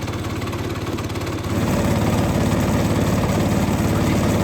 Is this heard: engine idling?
yes